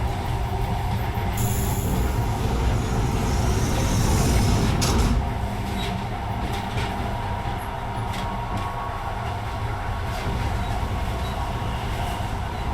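A metro train on the secret Metro 2 line rolls into a station in the video game Metro Last Light Redux. The loud rumble of wheels is joined by high squeals and clanks, then settles to a steady drone.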